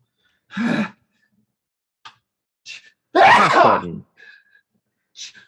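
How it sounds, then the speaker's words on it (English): A single loud sneeze preceded by a sharp inhale, followed by a few small breathy sounds in an otherwise quiet room. "I have to sneeze."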